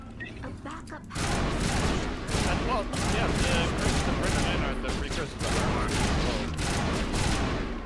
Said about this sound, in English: Gunfire in this game is very loud.